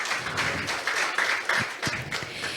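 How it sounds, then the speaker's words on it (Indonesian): Audience applause at the opening ceremony of the Golkar Institute, a steady, moderately loud patter of many hands clapping filling a hall, continuing without talk. "Boleh tepuk tangan ya"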